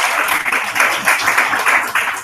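A seated audience claps steadily at a literary prize longlist announcement, welcoming the jury chair, with dense, sustained applause and no talk over it.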